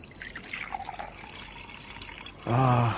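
Water trickling and pouring for drinking in an Indonesian radio drama, a soft liquid pour that rises toward the end, with a voice talking over it.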